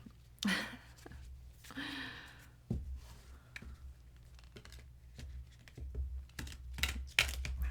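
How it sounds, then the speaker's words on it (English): A deck of cards is shuffled close up, awkwardly, with cards slipping and dropping: a few short papery riffle and slap bursts separated by quiet gaps. "These don't really shuffle like that very well. I'm dropping them."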